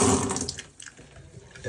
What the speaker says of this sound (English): Every single time I see this type of a faucet at one of these tubs, they always leak.